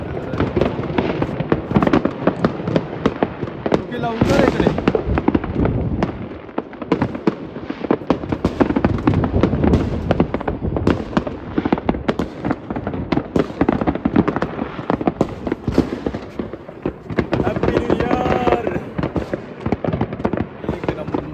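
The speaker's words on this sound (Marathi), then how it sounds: "कसले फटाके" Dense, continuous crackling and popping of New Year's firecrackers goes off nearby in Sweden for the whole stretch, with people shouting over the noise.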